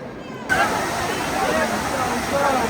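Water rushes and splashes steadily at Rome's Trevi Fountain, cutting in abruptly after half a second, with a busy crowd's murmur and chatter blended into the constant roar.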